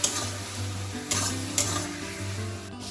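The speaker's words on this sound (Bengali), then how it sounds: "আদা রসুন বাটাটা দিয়ে ভালো করে কষিয়ে নিয়েছি" Potatoes, onion, tomato and ginger-garlic paste sauté in a pan, with steady sizzling and a few sharp stirring scrapes against the metal over a low constant hum. No one speaks.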